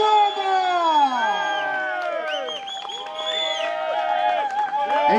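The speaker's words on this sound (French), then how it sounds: "J'aimerais un gros hurrah d'applaudissements pour Stéphane Lombard" A crowd cheers and whoops with high, rising voices at the finale of the OMS Paris 14 criterium cycling race. Overlapping shouts carry on throughout, loud and near.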